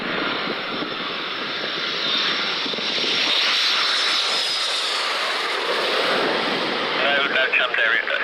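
A fixed-wing aircraft engine drones steadily throughout, a loud broadband roar that swells slightly toward the middle and stays continuous with no talk.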